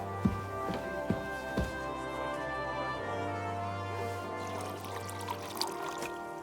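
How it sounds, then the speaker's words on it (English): Red wine pours in Kingdom Come: Deliverance 2, a soft trickle and splash beneath a low ambient hum, with a few faint knocks of vessels, quiet and close. "This business makes me thirsty. Pour me some of that red,"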